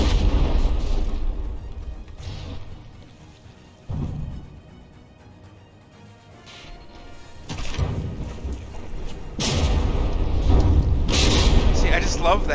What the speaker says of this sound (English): It penetrated all the way through the bow. Blew up the other side.